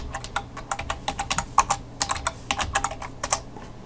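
Quick bursts of clicking keystrokes on a computer keyboard typing a sudo terminal command, close and crisp with brief pauses between clusters, no voices.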